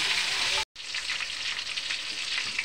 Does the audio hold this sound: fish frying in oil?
yes